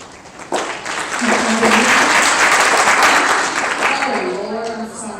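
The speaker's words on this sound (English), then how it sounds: "No clapping." A school audience claps steadily at an elementary spelling bee, the applause rising quickly and holding for several seconds before a voice cuts in over it.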